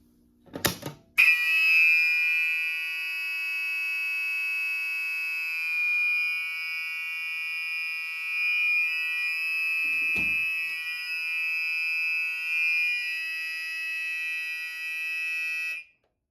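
A Silent Knight 5204 fire alarm horn sounds a continuous loud electronic tone for about fifteen seconds, with one brief click partway through, then cuts off abruptly.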